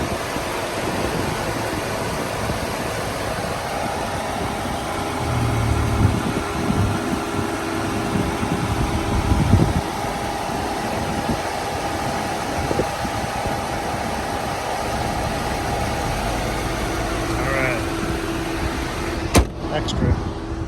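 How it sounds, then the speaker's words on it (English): A 2009 Infiniti G37x AWD engine idles with a low, steady rumble throughout, joined by a faint hum and a couple of light clicks near the end. "Take a listen to the engine for a moment."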